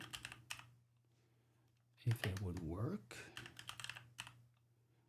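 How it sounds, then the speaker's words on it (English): Bursts of typing on a clicky mechanical computer keyboard, sharp rapid clicks in short runs near the microphone, paused while someone speaks briefly in the middle, then resuming under and after his voice. "I got this clicky keyboard, which is fantastic when you play when you're at home and just writing and typing"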